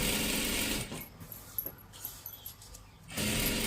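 A sewing machine stitches salwar fabric, whirring loudly and steadily at the start and end with a quieter stretch of faint mechanical ticking in between, heard up close.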